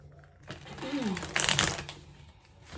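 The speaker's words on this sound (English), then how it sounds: "Let me shuffle them one time regular" A deck of tarot cards is riffled and shuffled in one quick crackling burst, close up, with a brief murmur of voice.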